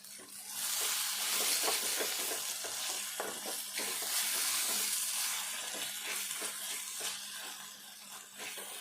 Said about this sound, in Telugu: ఒక్కసారి మూత తీసుకొని మళ్ళీ కలుపుకుందాము